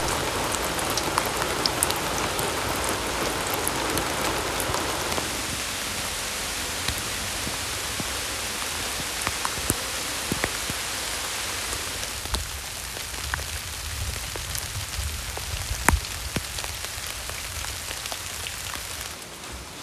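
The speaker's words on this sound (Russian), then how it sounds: "За окном идет дождь" Steady rain falls outside during the rainy season, a dense, even hiss of drops with scattered sharper taps on nearby surfaces, continuous and close for about twenty seconds, no voices.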